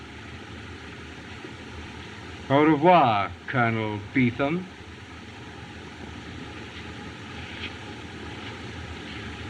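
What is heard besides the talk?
propeller airplane engine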